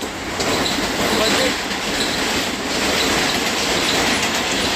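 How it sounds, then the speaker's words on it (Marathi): Loud, continuous rumble and rattle of a train pulling in, with wheel clatter and faint squeals, voices murmuring beneath the noise. "आता आलेली आहे ट्रेन"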